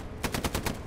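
Machine gun fire in the World War II shooter game Hell Let Loose, a short burst of about five rapid shots in quick succession, moderately loud over a dense battlefield rumble.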